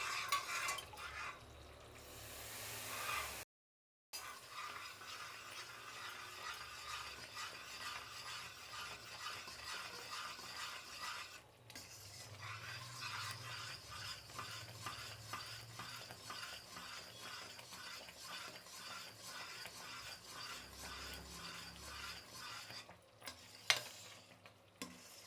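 A thick Mysore pak mixture of gram flour and oil is stirred and scraped around the sides of a pan, with a steady, quiet stream of scraping and light sizzle. A brief pause breaks it early on, and no one speaks.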